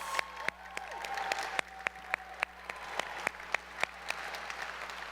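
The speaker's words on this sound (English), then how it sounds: "Give a round of applause." A room of people applauding at a city State of the City event, dense continuous clapping with crisp individual hand strikes standing out, fairly close, over a low steady hum.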